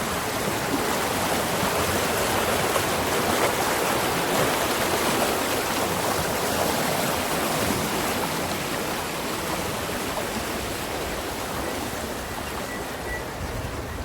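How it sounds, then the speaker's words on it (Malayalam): A small stream beside paddy fields near the Kuttiyankavu Bhagavathi Temple in Kerala, its flowing water making a steady, close, continuous rushing wash with no voices. "വെള്ളത്തിൻ്റെ ശബ്ദം."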